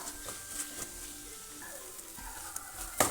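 Spice powders being stirred in a hot pan for restaurant-style chicken chukka masala: soft, low sizzling with scattered scraping stir strokes and a sharper scrape near the end, fairly quiet with no talking.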